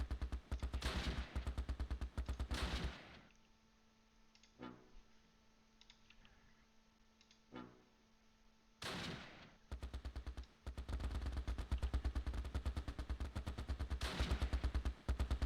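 Gunfire in the video game Close Combat Last Stand Arnhem, loud rapid machine-gun rattles in long bursts, broken by a quieter stretch with a few isolated shots before the firing resumes.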